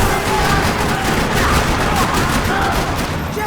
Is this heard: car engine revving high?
no